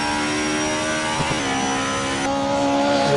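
A BMW road car engine hums and revs in the Assetto Corsa racing game, a sustained tonal drone with a short dip midway before climbing steadily again.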